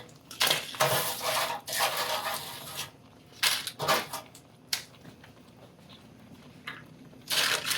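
Tortilla chips being stirred into simmering sauce in a pan, bursts of close clattering and scraping of a utensil against the pan, separated by quieter pauses.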